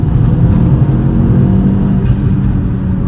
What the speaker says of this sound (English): And just listening to that turbo as well.